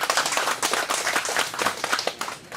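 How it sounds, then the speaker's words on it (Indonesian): Hands clapping at a village gathering during an official visit by regional leaders, a modest crowd producing uneven, separate claps in quick succession, fairly close and moderately loud. "tepuk tangan untuk Tuhan"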